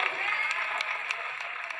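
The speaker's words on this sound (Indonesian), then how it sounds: "Sekali lagi tepuk tangan untuk teman-teman disabilitas Jawa Timur." Audience applause at an event for people with disabilities in East Java, a dense steady patter of clapping that holds at even loudness through the short stretch with faint crowd noise mixed in.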